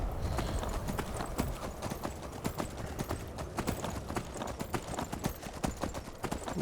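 Horse hooves clip-clop in a quick, steady rhythm throughout, close and continuous, as a rider hurries away on a horse in the video game Skyrim.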